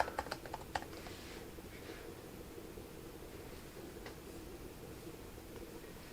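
A password is typed on a computer keyboard in a quiet room, with a quick burst of soft key clicks at the start and a lone tap later, faint over low background hiss.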